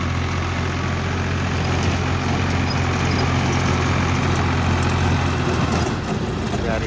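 A farm tractor engine idles with a dense, continuous rumble, close and loud throughout the clip, with a faint voice partly masked beneath it.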